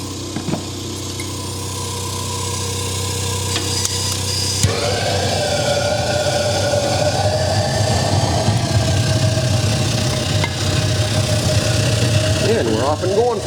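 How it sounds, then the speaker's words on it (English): A waste oil burner fires up from a cold start, shifting from a low hum into a steady, rumbling roar that holds under a voice talking nearby. "Just thought I'd show you a waste oil burner cold start here"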